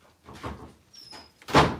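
A house door opens to let a wet dog in from the cold. A soft thud is followed by a brief squeak, then a louder, sharper knock or bump near the end.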